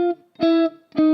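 Guitar playing a low-note melody from a finger independence exercise, each note cut short instead of ringing its full length: three clipped, sustained tones with gaps of silence between them, close and clear with no talking.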